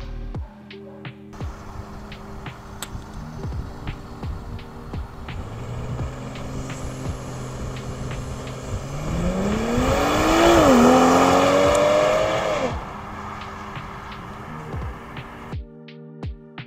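A BMW M340i with its stock exhaust drives on city streets, a steady engine drone and road noise that swells as the car accelerates through the gears midway, then settles back, with no talking.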